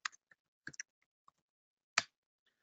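A handful of sparse, separate clicks on a computer keyboard while an email is typed, near and quiet with gaps of silence between strokes.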